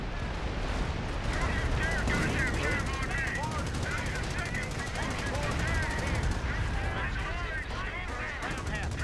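Continuous gunfire and machine-gun bursts from a Company of Heroes battle, a dense, steady wall of shots and combat noise lasting the whole stretch, with voices calling out over it.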